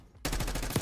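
Rapid automatic gunfire in the Black Ops 6 beta, a sudden loud burst of evenly spaced shots lasting under a second.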